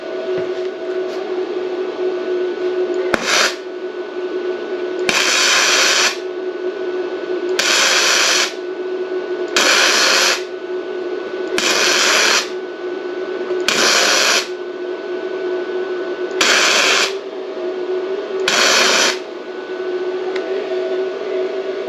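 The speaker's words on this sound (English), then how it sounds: "I'm gonna weld this little hole here just to see how it feels before I try to lay like a bead." Bestarc MIG145 MIG welder filling a small hole, a series of about eight short sizzling, crackling bursts, each lasting around a second, over a constant machine hum, close up and with no talking.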